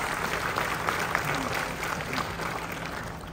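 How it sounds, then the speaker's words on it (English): Delegates at a tourism M.I.C.E. conference in the Philippines applaud as a large indoor crowd, a steady, dense wash of clapping that holds evenly from start to finish without pause. "please give yourselves a round of applause"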